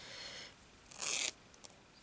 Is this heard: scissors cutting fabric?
yes